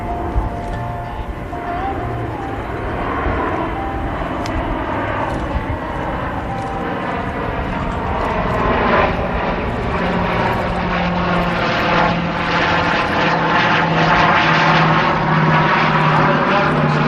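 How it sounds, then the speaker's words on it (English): A Douglas DC-4 propeller airliner drones past at an airshow with landing gear and flaps down, a broad engine roar that slowly swells louder as it nears, with faint voices underneath. "the pilots are going to have the aircraft slowed down just a little bit as they come back in"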